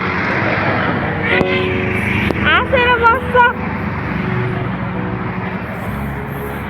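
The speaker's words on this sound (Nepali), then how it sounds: "प्लेन गयो।" An airplane passes overhead behind an airport, a loud, steady broadband roar that runs the whole stretch beneath close conversation and laughter.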